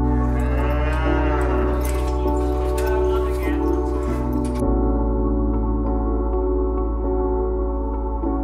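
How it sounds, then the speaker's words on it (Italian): A cow in Iceland moos loudly and close by, a long drawn-out low bellow stretching over several seconds, then the sound cuts off abruptly and a steady tonal drone continues. "Appena fatto partire la tua prima mucca."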